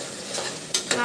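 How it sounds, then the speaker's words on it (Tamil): Onions frying and being stirred in a pan for Tamil-style mutton curry, a steady oily sizzle with two quick scrapes of the spoon near the end, no voices. "நல்லா வதங்கிடுச்சா?"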